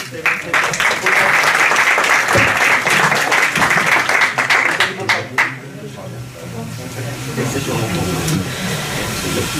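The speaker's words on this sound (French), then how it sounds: "On peut l'applaudir." An audience applauds at a flower-garden awards ceremony in Caudry, France: dense, loud clapping from a crowd for several seconds, then fading into murmuring voices and room noise.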